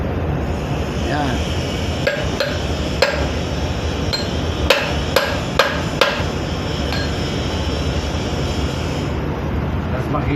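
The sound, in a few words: hammer striking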